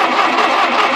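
An Allis Chalmers D17 tractor engine turns over, a loud, even churning drone with no talk over it, heard for about a second.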